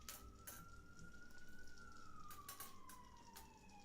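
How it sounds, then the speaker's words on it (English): An ambulance siren passing by at a distance, faint, with a wailing tone that rises and then slowly falls, accompanied by scattered clicks and light clatter nearby. "Apologies if you're hearing the ambulance go by"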